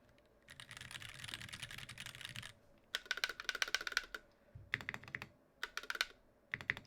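Typing on an IDOBAO ID80 hotswap 75% mechanical keyboard with lubed switches and GMK Nautilus keycaps: a fast run of soft, muted keystrokes, then several short clustered bursts of clacks, close and quiet.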